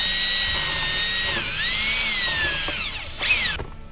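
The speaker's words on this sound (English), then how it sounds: "we'll go ahead and get that drilled" A power drill whines steadily through a hole in a Fox Body Mustang center console, pitch dipping and rising under load before a final rev and abrupt stop.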